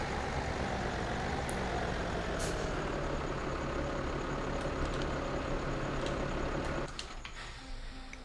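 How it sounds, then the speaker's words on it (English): A tractor engine in the Farming Simulator 17 video game drones loudly and steadily, with brief hissing bursts, then drops in level near the end. "Let's go ahead and park this tractor, because this tractor's work is pretty much done, I think."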